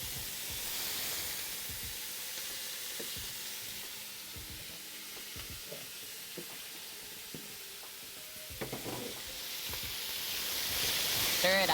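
Beef tenderloin sizzles and fries in a hot pan, a steady crackling hiss with scattered pops and spits that swell louder toward the end, with no talk over it.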